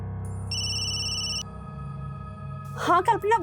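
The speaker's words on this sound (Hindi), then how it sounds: "अरे कल्पना का फोन।" A mobile phone rings with an incoming call: a bright electronic tone sounds over a low musical background, then a voice starts speaking.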